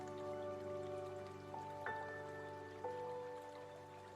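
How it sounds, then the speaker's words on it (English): Water drips and trickles in a lush green garden setting, soft patter and flowing sounds with a few brighter plinking drops, fairly quiet and steady throughout. "and the sound of water"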